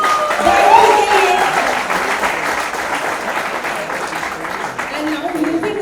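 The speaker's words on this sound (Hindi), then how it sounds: "सो तालियां हो जाए एक बार के लिए।" Audience at a film screening event applauds steadily, a dense wash of clapping that holds at full strength for the whole stretch, with a host's voice faintly over it.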